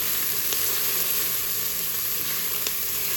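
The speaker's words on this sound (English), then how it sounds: "The first thing we are doing is sauteing the onions and the carrots in some olive oil." Onions and carrots sautéing in olive oil give a steady, close, even sizzle that holds throughout, with no voices.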